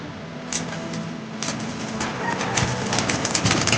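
Pigeons released from their cage flutter and shuffle nearby in a series of sharp wing flaps and scratchy rustles, with soft cooing in the background.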